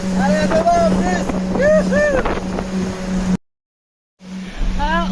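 Strong 30-knot wind gusts buffet a sailboat early in an Atlantic crossing, a loud steady roar of wind and boat noise with a low hum, briefly cutting out before resuming.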